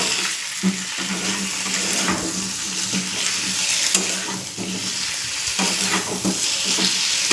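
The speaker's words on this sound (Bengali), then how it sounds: "রসুনটা যখন তেলে একটু ভাজা হয়ে এলো তখন আলু আর পেঁয়াজ দিয়ে দিলাম" Potatoes and onions fry in garlic-infused oil in a pan, sizzling steadily and loudly with intermittent stirring scrapes throughout, no talking.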